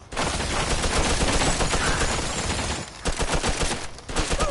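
Gunfire in the Mafia 2 video game, a dense, loud burst of rapid shots and machine-gun fire filling the whole stretch, with a brief lull before more volleys.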